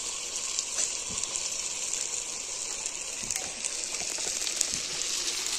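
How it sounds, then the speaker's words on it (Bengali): Masala of turmeric and chili powder sizzles as it fries in a pan for a potol recipe with a prawn filling, a steady hissing crackle with occasional sharper pops, moderately loud and with no talk over it. "দিয়ে ভালো করে আমি মশলাটা কষিয়ে নেব"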